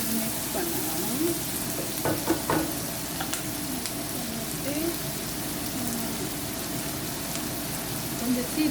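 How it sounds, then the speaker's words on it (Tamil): Chopped onion fries in a pan for uppuma, giving a constant close sizzle with occasional scraping stirs and a few soft knocks of the utensil. "ஒனியன் போட்டு மிக்ஸ் பண்ணணும்."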